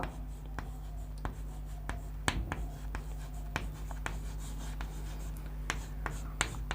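A pen writes out names of national parks in Assam, giving a soft continuous scratch punctuated by regular sharp taps and clicks, close and quiet over a low steady hum.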